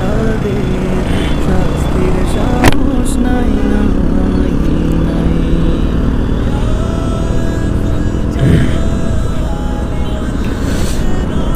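A motorcycle cruises along a highway near Dhaka, its steady engine drone and road rumble continuous and close throughout, with wind noise and a brief passing vehicle swell.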